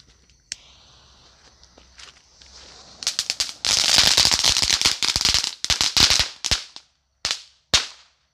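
A Diwali firecracker is lit, fizzing quietly at first, then erupting into a loud, dense volley of sharp cracks and pops that thins into a few final separate bangs, close by and with no talking.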